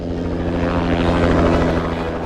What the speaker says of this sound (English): From New York, we were transported by private helicopter to the Pierson estate in Maine.